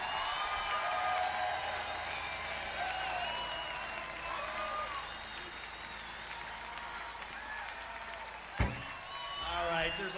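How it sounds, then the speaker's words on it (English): A crowd at a rock concert in New York gives a standing ovation, with continuous applause, cheers and whistles filling the hall. A loud shout cuts through near the end. "Standing ovation, once again,"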